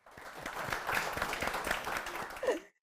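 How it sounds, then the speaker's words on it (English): Audience applause for a panelist at a MetLife UK and YuLife corporate panel event, a steady patter of moderate clapping from a room crowd lasting a few seconds before ending abruptly. "let's give Matt a round of applause"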